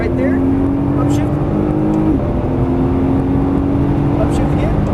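Nissan GT-R engine pulling hard at full throttle from inside the cabin, a steady loud drone with one upshift dip near the middle before the pitch climbs again, with a voice talking over it.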